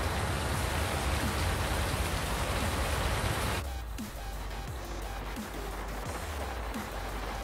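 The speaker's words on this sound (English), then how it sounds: "Glad the rain doesn't come through the shed, right?" Steady rain in Farming Simulator 19 hissing loudly and continuously, dense patter that thins slightly partway through, with no voices.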